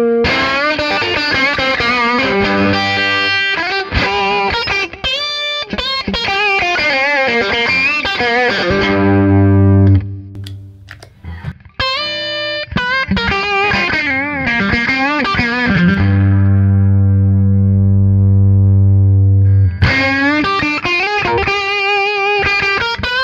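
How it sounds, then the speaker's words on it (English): An electric guitar through a Tube Screamer boost with the tone all the way up, crunchy and overdriven, plays sustained chords and melodic runs, briefly dropping to low notes midway before the lead resumes. "took a tube screamer with the tone all the way up and used it primarily"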